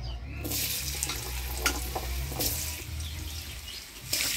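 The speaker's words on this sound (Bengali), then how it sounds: "এবার এই তেলের মধ্যে আলুগুলাও ভেজে নিব।" Potatoes fry in hot oil with a steady, close sizzle and a few sharper crackles and spatters, broken by brief bursts of faint clatter.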